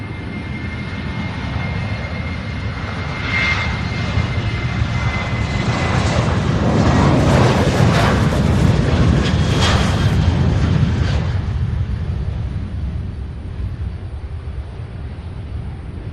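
An airplane takes off from runway 17 right at Louisville airport, its engine roar building to a loud peak in the middle then easing into a steady distant rumble.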